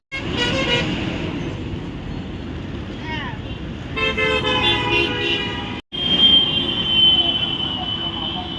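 Buses and other vehicles roll past continuously on the highway at the Melmaruvathur bus stop, a steady traffic rumble punctuated by several horn toots, with people talking nearby.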